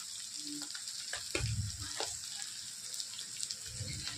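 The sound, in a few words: asafoetida added to hot oil, sizzling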